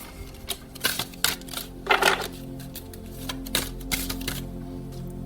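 Pen or pencil writing by hand on paper, heard as a string of short scratchy strokes and taps, fairly close and moderately loud, with no talking.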